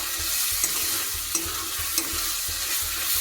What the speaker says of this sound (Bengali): মশলাটাকে দিয়ে কষিয়ে নেবো